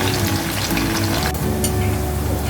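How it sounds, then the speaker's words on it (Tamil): Anchovies (nethili) frying in hot oil produce a loud, dense, continuous crackle and hiss that holds steady from start to finish. "மீன் நல்லா ஃப்ரை பண்ணியாச்சு"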